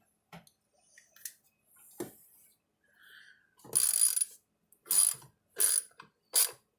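A ratcheting wrench clicks in several quick bursts loosening load bar bolts, with metallic taps and small clanks between them, close and clear in a quiet room.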